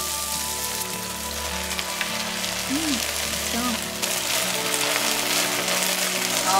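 Scallion oil sizzles in a pan with pork chops, a dense, rain-like hiss that holds steady and swells slightly toward the end.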